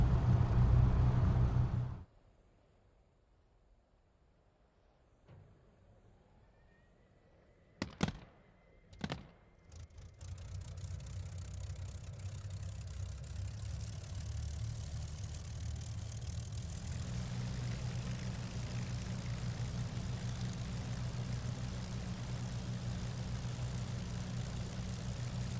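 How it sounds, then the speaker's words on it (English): de Havilland Mosquito Mk.VI piston engines in DCS idling after startup, a steady droning hum that settles in after a quiet stretch and a few brief clicks, holding even to the end. "So now the engines are started, we're going to taxi."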